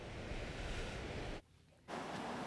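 Wind and surf roar steadily on a sea beach at Hirono Kaigan Park in Shizuoka, where murky water runs with whitecaps. The wash drops out briefly and then returns at full strength.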